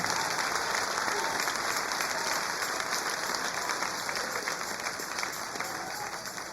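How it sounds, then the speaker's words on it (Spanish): Sustained applause from a church congregation during a Sunday morning service, a dense, steady wash of clapping that fills the space without break and tapers slightly at the end. "Dale ese aplauso al Rey."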